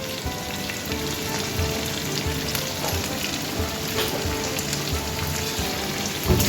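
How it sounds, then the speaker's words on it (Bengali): Pieces of chili chicken fry in a pan with a dense, even, rain-like sizzle and crackle that runs steadily from start to finish. It is close and moderately loud, and no one speaks. "দেখো বন্ধুরা এটা কত সুন্দর ভাজা হচ্ছে বলো।"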